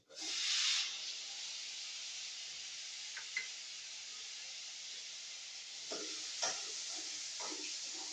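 Chopped tomatoes hit a hot pan for a sardine curry, a loud hiss at first settling into a steady sizzle, with a few soft stirring scrapes and clinks, no talk.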